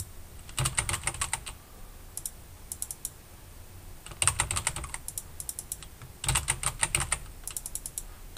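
Someone types on a computer keyboard while entering text in AutoCAD, producing quick bursts of close clicking keystrokes separated by short pauses, with no voice over them.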